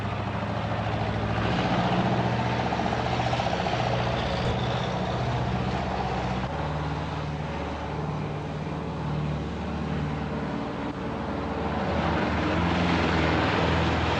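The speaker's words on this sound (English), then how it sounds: "Now the truck is quite stable at the speed which previously caused it to overturn" A forklift truck drives at speed, making a steady mechanical drone with engine whine and rolling rumble that holds for the whole stretch, moderately loud without pause.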